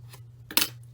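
Scissors snip through yarn tails on a handcrafted piece, one crisp close cut standing out briefly over a low steady hum.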